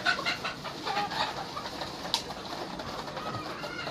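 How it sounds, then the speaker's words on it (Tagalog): Chickens cluck and peck as they feed at an early-morning feeding, a soft, busy chorus of clucks over steady rustling, with no talk. "So look, the chickens are eating now."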